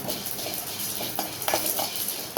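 Dried red chillies and black peppercorns dry-roasting in a pan without oil, stirred with a utensil, giving soft scraping, rattling and light clinks of spoon against metal, close and uneven, with no voices.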